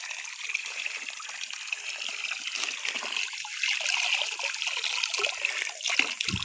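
Water from a 12 volt DC 500 watt submersible pump pours and splashes steadily into a filled water source, a continuous close trickling gush with no voices.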